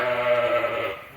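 Sheep ewes bleating in a pen inside a barn, one close wavering bleat filling the moment, with no talk.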